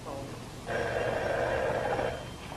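A telephone rings steadily for about a second and a half, a sustained electronic bell tone at moderate loudness, then stops.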